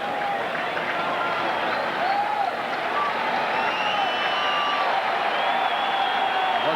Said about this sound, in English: The crowd cheering on Franco.